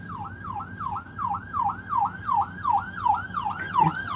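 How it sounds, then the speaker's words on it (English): An ambulance siren wails in a steady, repeating rise-and-fall pattern on a street in Fort Myers. It sounds fairly close and stays clear over low traffic rumble. "These people haven't figured out there's an ambulance coming."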